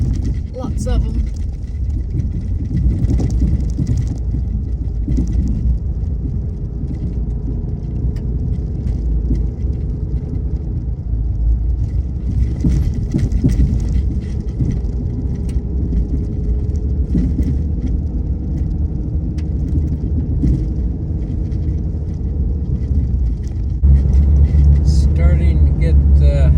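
A vehicle rumbles steadily along a rough gravel road full of potholes, with continuous low engine and tyre noise, occasional jolts and a louder, heavier stretch near the end; speech is present in the background.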